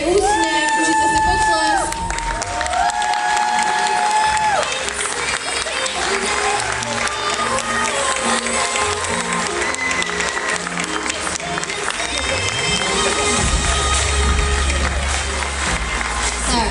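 Applause and cheering break out at an art award ceremony, with clapping mixed with crowd noise, children's shouts and a whoop, running continuously under music-like tones throughout.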